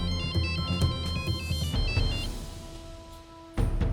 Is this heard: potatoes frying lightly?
no